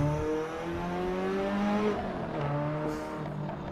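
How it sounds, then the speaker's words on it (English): A rear-drive Ferrari in a racing game, engine revving and rising through gears as the rear end slides out under light throttle, with a faint tire squeal and a continuous close engine note, without voices. "You barely get on the throttle and it's sliding."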